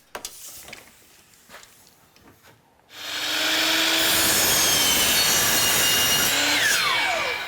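Power saw cutting through wood stock for door framing, a loud, steady, sustained cut that starts abruptly a few seconds in after quiet handling noises and runs to the end.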